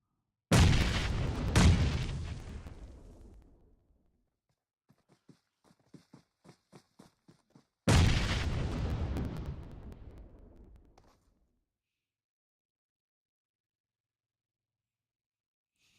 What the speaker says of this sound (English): And just maybe Nades coming out.